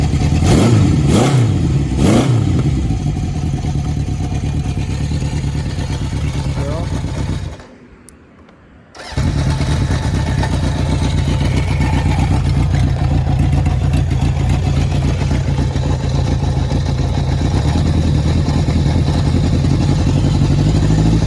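A 1971 Honda CB750 motorcycle engine warms up, running loudly and steadily close by, with a few quick revs at the start and a brief cut-out partway through.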